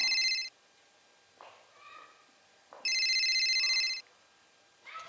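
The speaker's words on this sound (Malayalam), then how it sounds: "ഫോൺ അടിക്കണാരാ അത് ഫോണാണ്" A phone rings in two short bursts at a low level, with a voice talking in the gaps between the rings.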